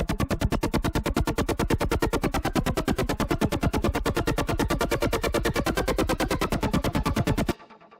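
An 8-bit synth pluck made in Massive, dry with effects and arpeggiator switched off, firing as a fast, even stream of bright buzzy notes for about seven seconds before cutting off abruptly.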